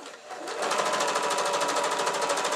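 A sewing machine runs fast while stitching a cushion cover, a steady close mechanical whir with rapid even needle pulses that speeds up after a brief start and keeps going without a break.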